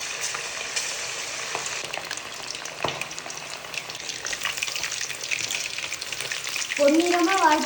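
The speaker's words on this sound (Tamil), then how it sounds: "அவா அதை ஃப்ரை பண்ணிருங்கவா" Japan chicken pieces deep frying in hot oil, a steady dense sizzle and crackle close by, with brief stirring clinks and a short voice near the end.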